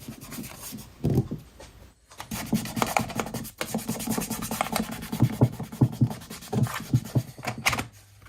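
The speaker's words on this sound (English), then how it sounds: "pushed down hard, and then rubbed around with my thumb to mark out the periphery of the barrel" A thumb rubs and presses gasket paper over a motorcycle engine barrel, a close, steady scraping rasp with repeated strokes and brief pauses, continuing throughout with no talk.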